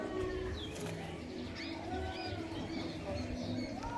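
Punjabi pigeons being handled and released, with soft low cooing and bird calls over a dense background of murmuring activity and faint talk, steady and fairly quiet throughout.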